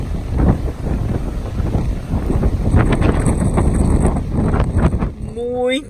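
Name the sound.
strong wind at the beach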